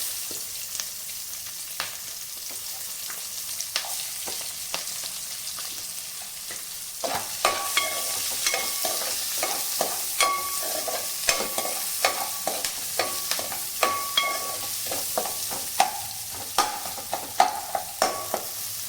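Onion frying and being stirred in a pan while cooking gobi fried rice, a steady sizzle broken by repeated sharp scraping strokes of a spatula that become louder and more frequent after the first few seconds, with no talking.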